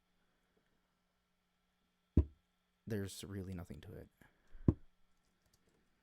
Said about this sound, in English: Here is the initial hit of the box.